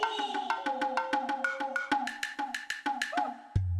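Nintendo GameCube alternate startup intro triggered by holding Z on four connected controllers: a quick train of sharp percussive hits with rising tonal blips, ending in a low thud, played alone.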